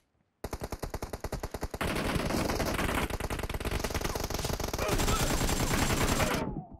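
Sustained automatic gunfire in a mobile shooter game played on an iPad Pro, a loud, fast, evenly spaced stream of shots running for several seconds before stopping abruptly.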